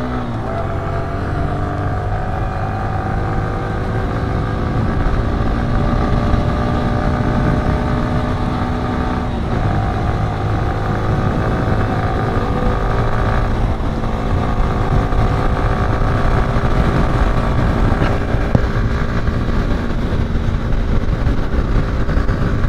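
Three motorcycles cruise together along the Purvanchal Expressway, their engines droning steadily and loudly close by with a continuous whooshing wind rush and shifting harmonic whine throughout, with no talk.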